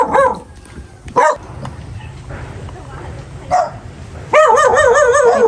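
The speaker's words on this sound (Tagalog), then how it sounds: "Ay, may aso." A dog barks in several sharp bursts, with a yelping, wavering run of barks at the end, close by, and people talk between the barks.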